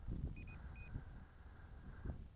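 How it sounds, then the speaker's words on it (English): Two short high-pitched electronic beeps from an SJRC F11 Pro drone returning home sound in quick succession, then a third tone, over a low outdoor rumble. "Now hear the beeping. We got two beeps there."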